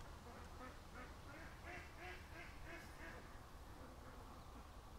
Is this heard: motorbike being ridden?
no